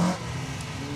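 A Renault Clio rally car runs a stage at the Rali Menai Stages. Its engine drones steadily at some distance for about a second, and no one speaks over it.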